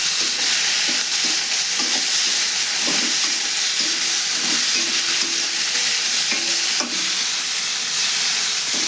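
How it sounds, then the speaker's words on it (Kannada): Chopped cowpea (chavali) pods fry in a couple of spoons of oil with masala, making a dense, steady sizzle. Faint rhythmic stirring scrapes run through it continuously, close up and with no talk. "ಹುರಿಬೇಕು ನೋಡ್ರಿ ಚೆಂದಾಗಿ."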